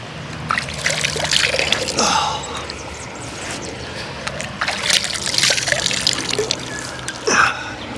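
Water splashing and trickling close by, with uneven surges of movement through the water and a steady rushing background.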